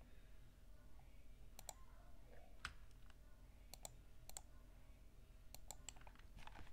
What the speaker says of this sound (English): I just kind of want you guys to hear my keyboard.